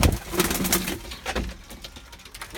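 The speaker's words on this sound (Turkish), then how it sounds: "Şimdi kuşlarımızı arkadaşlar şöyle ufaktan bir dışarıya verelim." Tumbler pigeons cooing in low, throaty bursts as they are let outside, the coos close and moderately loud with faint rustling between calls, fading somewhat toward the end.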